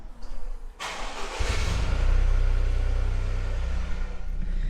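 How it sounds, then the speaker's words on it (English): A Toyota GR Yaris starter whirs briefly before the stock-exhaust engine catches and settles into a steady, deep idle close by. "Last start as a stock car."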